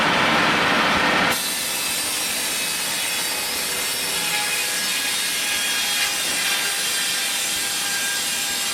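A steam-powered saw at a steam rally rips steadily through a length of timber, a loud continuous rasping cut after a brief louder burst at the start, with no talk over it.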